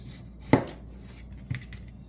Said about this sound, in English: So I just cut these in half, and then probably in half one more time